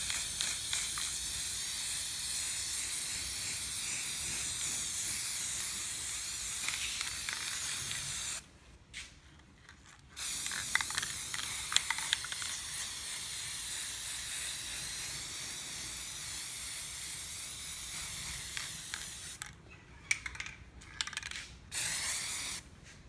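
A spray can lays a second coat of paint on furniture, giving long continuous close hisses broken by short pauses where the nozzle is released, including a few quick stop-start bursts near the end.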